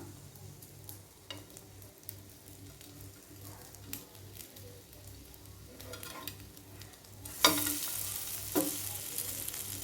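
Masala bread toast with grated carrot and vegetables sizzles softly in a pan, a low steady fry with occasional flips and scrapes, growing louder toward the end.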